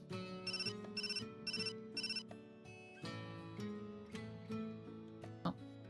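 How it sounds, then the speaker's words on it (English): A phone ringtone from Hakuoki SSL chimes in four quick repeated bursts, then settles into a softer melodic tone pattern. It sounds clear and moderately loud. "my phone buzzed"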